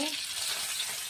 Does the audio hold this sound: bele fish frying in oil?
yes